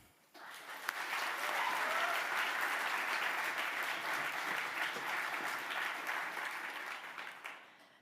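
An audience at a university engineering hard hat ceremony breaks into steady, sustained applause that starts abruptly, holds evenly for several seconds, then tapers off at the end.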